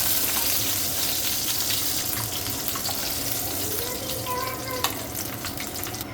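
Ivy gourds frying in hot oil for an Andhra-style curry, a steady crackling sizzle that carries evenly throughout at moderate loudness, with no talk.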